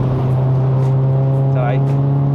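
Volkswagen Polo GTI MK5 engine humming steadily from inside the car while accelerating, a loud continuous drone with a voice briefly heard over it.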